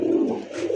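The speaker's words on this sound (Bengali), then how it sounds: "গোপালগঞ্জের যে বড় পায়রা সেই হচ্ছে আমাদের এই গোপালগঞ্জের বড় পায়রা" A large Gopalganj pigeon coos in a low, steady rolling call that fills the whole short moment, close and clear with no talk over it.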